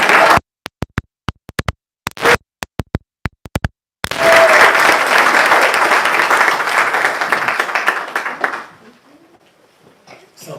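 Scattered individual claps in a church congregation grow into dense, sustained applause that holds for several seconds before fading out to near quiet.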